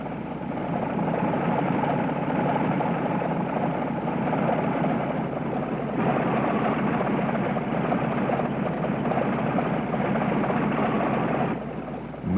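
The propeller engine of a Chance Vought F4U Corsair drones steadily and loudly for about twelve seconds, with no break in the continuous roar.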